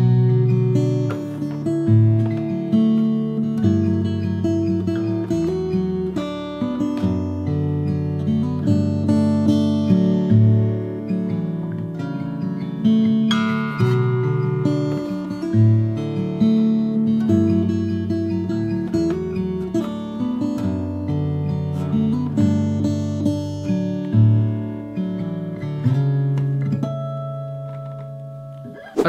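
Acoustic guitar fingerpicked slowly through the verse of a song, a steady stream of plucked notes and bass strings with ringing chord changes, played solo and close for nearly half a minute with no voices.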